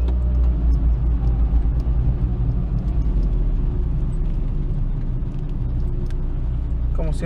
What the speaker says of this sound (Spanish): Como siempre se hace un poquito aquí el tráfico.